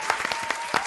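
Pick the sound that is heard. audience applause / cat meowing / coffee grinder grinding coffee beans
audience applause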